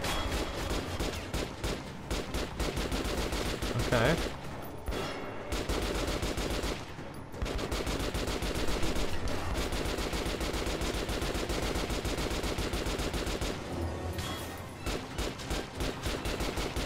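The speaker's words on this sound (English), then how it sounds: "Now we're using the shotgun." Rapid, sustained gunfire from the first-person shooter Metro: Last Light, loud and continuous across the whole stretch with brief lulls, blasts overlapping densely like automatic fire rather than spaced shotgun shots, with music or ambience underneath and no talking.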